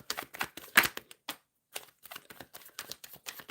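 Tarot cards are shuffled by hand in a run of sharp, papery riffles and flicks, close and uneven, with a short pause before the shuffling resumes.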